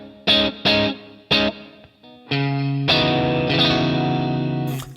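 Strat-type guitar with low-output pickups driven through a NuX Steel Singer overdrive pedal, playing several short, punchy chord stabs and then sustained, thick overdriven chords that ring out loud and alone.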